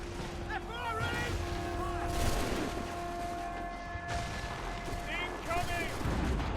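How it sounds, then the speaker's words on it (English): Volleys of gunfire in Assassin's Creed 3 crack in bursts amid a busy battle din, mixed with loud shouted voices. "Get down! Find some cover! They're firing!"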